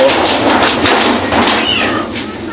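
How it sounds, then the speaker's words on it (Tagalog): A cat meows loudly and repeatedly up close, drawn-out cries with no pauses between them. "Dumaan yung pusa kapatid, no? Maingay."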